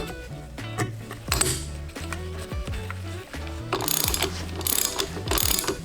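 Torque wrench ratcheting as it tightens the rear shock adjuster on a Suzuki RM250 dirt bike under rebuild, giving close, repeated ratchet clicks in quick bursts with brief pauses, no talking.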